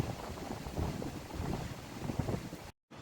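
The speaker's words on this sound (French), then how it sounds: "Il y a du vent, hein." Outdoor wind buffeting a microphone, a steady low rumbling roar with gusty surges, close and fairly loud, cutting out briefly near the end.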